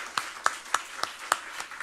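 A church congregation gives a short welcome applause for visiting hospital members, heard as a few distinct, sparse claps spaced across the moment rather than a full burst of applause, fairly quiet and with no talking over it.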